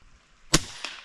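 An FX Impact M3 .35 caliber PCP air rifle fires a single loud, sharp crack, followed about a third of a second later by a fainter impact-like report downrange; there is no talk.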